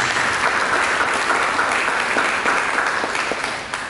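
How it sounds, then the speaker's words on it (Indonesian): A church congregation claps for Jesus during a sermon, a steady wash of applause holding evenly throughout and tapering slightly at the very end. "Mari kita berikan tepuk tangan bagi Yesus."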